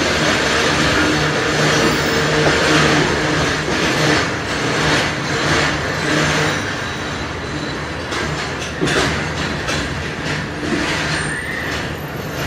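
The 6 Down Green Line train approaching on the opposite track outside Lahore railway station, heard from a stationary train as a loud, continuous rumble and roar of wheels and carriages that swells and persists throughout.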